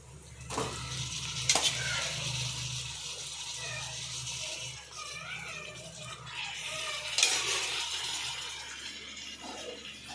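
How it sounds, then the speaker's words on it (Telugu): Washed chicken pieces dropped into a pan of frying ginger paste and stirred, a wet sizzle with a couple of sharp clatters of the spoon against the pan. "ఇలా అల్లం పేస్ట్ వేసుకొని ఒక 2 నిమిషాలు వేయించుకున్న తర్వాత మనం కడిగి పెట్టుకున్న చికెన్ వేసేసుకోవాలి"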